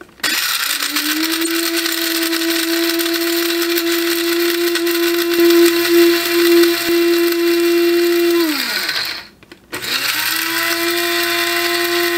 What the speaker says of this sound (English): I am putting them in the spice grinder and grinding them into powder